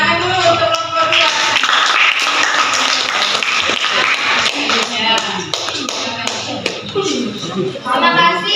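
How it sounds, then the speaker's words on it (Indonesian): A classroom group claps for a student presentation, sharp irregular hand claps and taps from several people close by, mixed with brief talk. "kita tepuk tangan dulu untuk kelompok 2"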